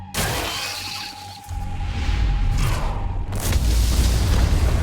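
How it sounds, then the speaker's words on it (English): Deep booming blasts and shattering crashes rumble through underground ant tunnels in the action game Solo Leveling Arise, loud and layered with a swelling low roar after a brief lull. "Looks like fireworks are going off in the ant tunnels."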